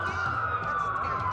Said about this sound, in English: That's a lot of sirens for a blackout.